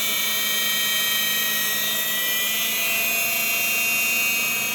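A distributor test machine spins a distributor up to high RPM with a loud, steady, high-pitched whine close by. The tone climbs a little as the speed rises, with no talking.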